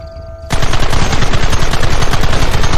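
Loud, rapid gunfire erupts after a short quiet lead-in and continues as a dense, steady rattle of repeated shots at close range in the Western video game Red Dead Redemption.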